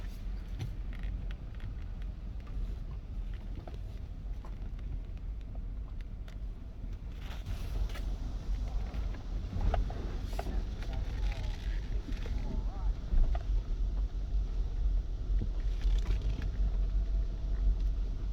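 A 2006 GMC Yukon truck is maneuvered outdoors, a low, steady engine rumble with wind noise, growing slightly louder partway through, while people talk.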